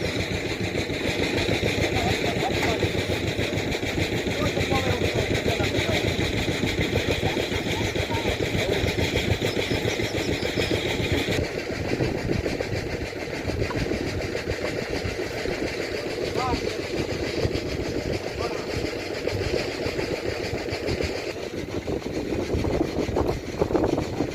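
A tractor engine runs steadily throughout borehole drilling in Pakistan, a loud continuous mid-pitched drone with mechanical rattle, while people talk intermittently over it.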